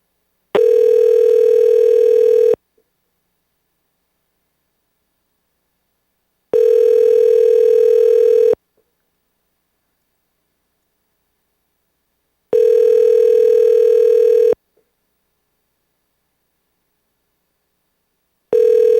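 Three long, steady telephone tones sound loud and clean, each about two seconds, separated by equal silent gaps. The even pattern reads as a call-connecting or ringback signal on a phone line during a remote assembly meeting.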